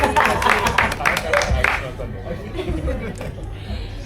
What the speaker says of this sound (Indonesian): Kasih tepuk tangan boleh dong.